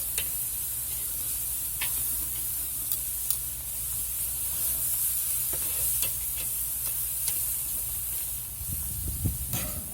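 Japanese cross cut ribs frying, a steady hissing sizzle held close and even for the whole stretch, dotted with small pops and crackles and a louder rustle near the end.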